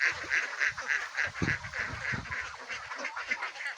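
Ducks on a small farm quack in a rapid, overlapping chorus, several birds calling close by in uneven bursts with no pauses.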